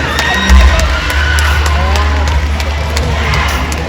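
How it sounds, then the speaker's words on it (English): Crowd at a Philippine beauty pageant, Miss International Queen Philippines Luzon 2024, cheering and whooping in a loud, steady roar that fills the hall without pause. "A round of applause."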